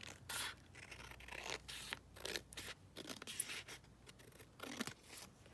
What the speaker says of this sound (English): I might just quickly cut this down slightly more